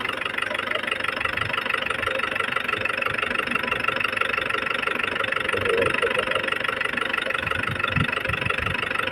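Isuzu Trooper with a 4JX1 diesel engine, just repaired oil pressure pump, idling while warming up: a steady, continuous mid-range diesel clatter and hum that stays even and close throughout, with no talking.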